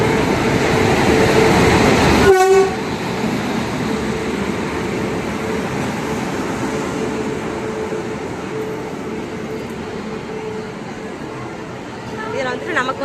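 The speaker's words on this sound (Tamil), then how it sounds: "ட்ரெயின் வந்துருச்சு." A T3 train rumbles into a railway station in Odisha, a steady loud roar of rolling carriages filling the platform with a sharp squeal and clatter early on and people talking over it.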